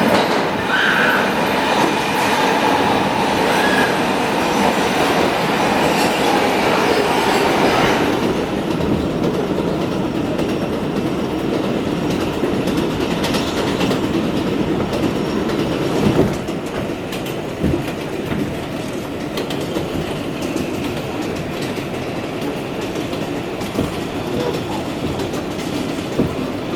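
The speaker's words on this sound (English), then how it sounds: "It's time to hop on the subway back towards" A New York subway train carries riders back towards Flushing, a steady loud rumble and rattle of wheels on track with a shift in tone midway and brief clanks, no talk.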